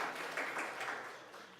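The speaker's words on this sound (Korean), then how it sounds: "우리 하나님께 영광의 박수 올려드리겠습니다" A church congregation applauds during a worship service, a brief spell of soft, distant clapping that fades gradually over a couple of seconds.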